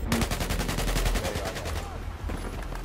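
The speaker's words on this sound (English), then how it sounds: "Teammate shot at you" Rapid automatic gunfire in the shooter game Battlefield 4, a loud, fast burst of evenly spaced shots for about two seconds that then breaks off into quieter scattered sounds.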